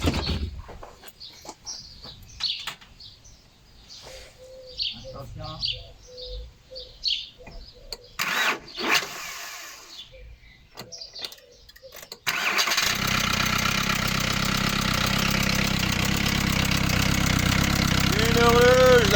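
A Volkswagen T4 van's 1.9 TD ABL diesel engine, with a timing problem, cranks and catches at once, then settles into a steady, loud idle rumble that continues to the end, after earlier scattered clanks and handling noises.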